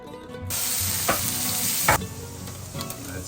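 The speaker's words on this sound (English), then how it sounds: "In the meantime, our eggplant is cooking pretty well." Eggplant and peppers frying hard in a hot pan, a loud steady sizzle broken by a few scraping stirs, close up with no talking.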